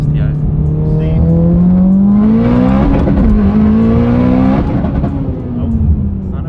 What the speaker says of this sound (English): So we're gonna go for a drive right now and see if he can smash some gears